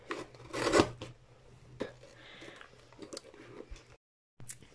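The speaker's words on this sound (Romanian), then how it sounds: "Uite, ne luăm aici un cutter și haideți să tăiem" A utility knife slices through packing tape sealing the box of a Promate Streamer microphone, giving short close raspy cuts and scrapes with brief pauses and a silent gap near the end.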